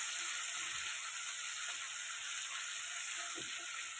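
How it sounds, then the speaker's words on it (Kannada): Tomato frying in a pan for oats upma, a steady close sizzle with faint stirring scrapes running throughout, no talk. "ಒಂದು ಟೊಮಾಟೋನ ಸೇರಿಸ್ಕೊತಾ ಇದ್ದೀನಿ. ಅದನ್ನು ಸ್ವಲ್ಪ ಅದರಲ್ಲೇ ಫ್ರೈ ಮಾಡ್ಕೊಬೇಕು."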